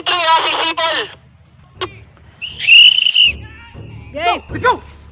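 A referee's whistle signals the start of an airsoft battle at an outdoor tactical gamesite, sounding in short shrill blasts amid scattered voices, shouts and outdoor noise.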